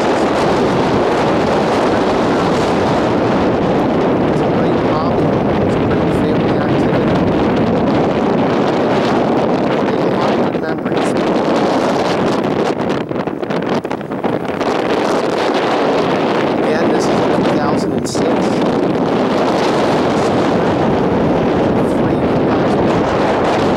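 A 2006 Sea Ray 240 runs at wide open throttle on the bay, with a loud, constant rush of engine, water and heavy wind buffeting across the microphone.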